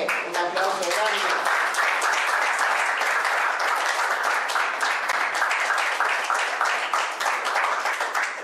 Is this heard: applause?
yes